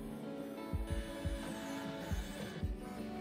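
A cheap 3D printer printing a Benchy benchmark hums faintly and steadily, with soft rhythmic mechanical thumps from the moving parts every half second or so.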